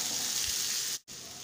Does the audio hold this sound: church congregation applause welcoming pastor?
no